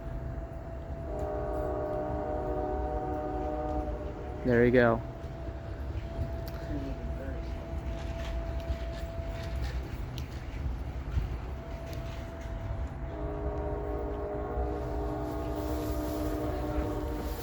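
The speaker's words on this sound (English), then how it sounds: "I think it's about to honk at the private crossing." A Norfolk Southern Dash 9 locomotive leads a foreign stack train, sounding its multi-tone horn in long blasts near a private crossing while the train rumbles steadily past, with people talking briefly nearby.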